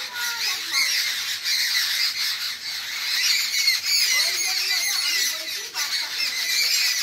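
Frightened birds squawk continuously in a shrill overlapping chorus at close range, with faint voices in the background.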